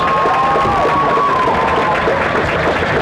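Stadium crowd at a high school football game applauding and cheering a homecoming candidate, a dense continuous roar of clapping and shouts with a loudspeaker voice faintly over it.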